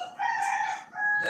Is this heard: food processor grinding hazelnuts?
no